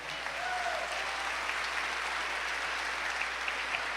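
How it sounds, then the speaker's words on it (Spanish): A church congregation gives steady, even applause at a sermon, a soft, distant-sounding wash of clapping that holds for a few seconds. "¿Cuánto le pueden dar un aplauso al Señor?"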